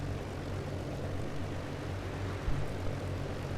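Hughes H-4 Hercules "Spruce Goose" flying boat with its engines left running after a dead-stick landing on the Hudson River, a steady, droning propeller roar held at an even level throughout.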